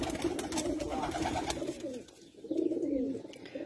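Flying pigeons kept at Ustad Ikhlaq Ahmad Khan's home, cooing close by in soft, rolling throaty bursts, one phrase fading out and another swelling up after a short gap.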